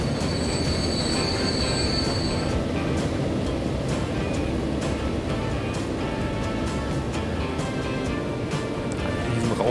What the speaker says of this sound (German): Dann sehen wir auch den anderen Zug wegfahren.